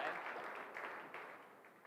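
Brief, soft applause from spectators at a girls' varsity high school basketball game, honoring a Marian Central Catholic senior; a short, muffled wash of clapping that fades within two seconds.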